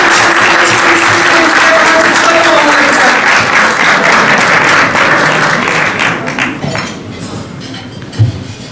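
An audience at the Kaffed celebration of the Adygea Republic's 25th anniversary in 2016 breaks into loud, sustained applause as a speaker is called to the podium. The clapping holds steady, then thins and fades toward the end, with one last isolated thump.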